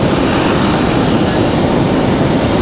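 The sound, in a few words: Frontier airliner arriving at Raleigh Durham airport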